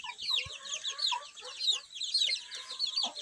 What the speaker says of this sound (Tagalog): ito na po yung mga sisiw nating 5, bilis lumaki